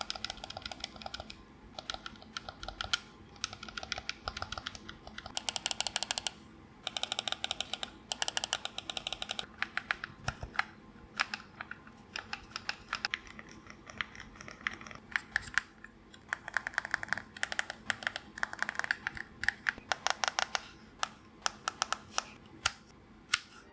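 Buttons on an 8BitDo Ultimate 2 wireless controller click in rapid, irregular bursts of sharp tactile presses, close and crisp, with brief pauses between flurries and no talking.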